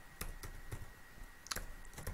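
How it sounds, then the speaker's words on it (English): A run of keystrokes on a computer keyboard as a file name is typed into a File Explorer address bar, with soft, fairly regular clicks, close and quiet, with no talking. "I just type its name"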